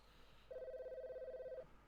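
A telephone rings in a FNaF fan video game, one sustained electronic ring tone lasting about a second, moderately loud over a faint background hum.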